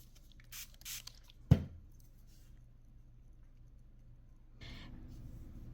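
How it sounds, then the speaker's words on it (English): A spray bottle spritzes water onto paper flowers freshly painted in cantaloupe color: a couple of faint, quick misting bursts, then a sharp click and a softer, longer hiss, all quiet and close. "I'm going to give a good spritz of water"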